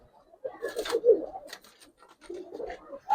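Giribaz silver and colouring pigeons coo softly at close range, with several low, throaty bursts coming in uneven waves and brief pauses in between.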